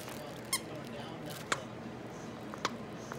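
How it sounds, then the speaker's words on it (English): A dog's squeaky toy gives three short, sharp squeaks spaced about a second apart, fairly close over a low background hiss. "Squeak it."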